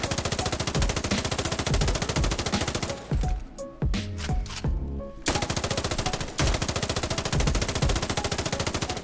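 Rapid automatic fire from a Rowdy, an M4-type rifle in the Scarfall 2.0 training mode, runs as a steady loud stream of shots. It breaks off for about two seconds with scattered single reports, then resumes at the same pace.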